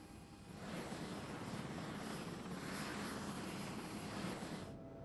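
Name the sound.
helicopter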